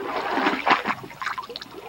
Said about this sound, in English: is just like this sloshing water type sound